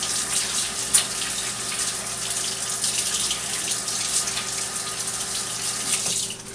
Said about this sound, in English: the next step is wash your hands